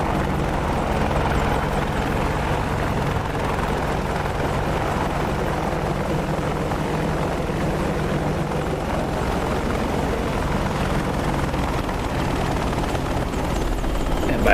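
A helicopter in a DCS or War Thunder flight sim roars steadily and loudly, its dense rotor and engine drone continuous and unchanging throughout.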